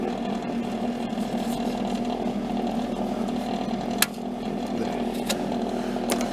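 A Mastercraft flux core welder runs its wire feed, giving a steady, close mechanical drone with a faint tick near the end and no talking.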